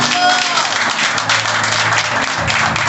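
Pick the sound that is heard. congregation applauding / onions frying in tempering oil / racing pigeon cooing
congregation applauding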